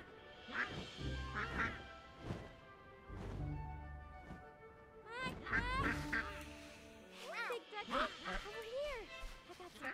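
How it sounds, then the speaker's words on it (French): Duck quacking in the farming life-sim game My Time at Sandrock, a run of loud nasal quacks and honks scattered across the clip, mixed with game sounds and a voice talking over them. "Ça pourrait être un gros canard, c'est un gros canard."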